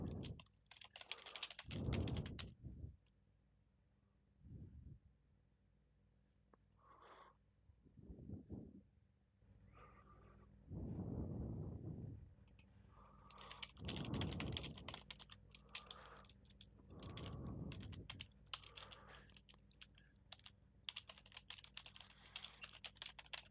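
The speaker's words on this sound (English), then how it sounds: "I was typing a message." Computer keyboard typing in bursts of quick clicks separated by short pauses, close and fairly quiet, with no talk.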